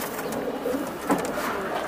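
Grizzle pigeons coo at a pigeon sale, a soft continuous low cooing with one louder swell partway through, set against a steady background hum.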